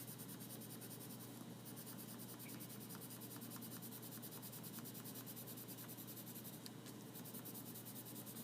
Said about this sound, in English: fill each one of these boxes with the blue colored pencil